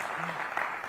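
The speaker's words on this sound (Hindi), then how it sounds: "ताली बजाओ यार इनके लिए जोर से" Audience applause at a political forum stage event on Indian railways, a steady dense wash of clapping through the whole short moment, fairly loud and even with no break.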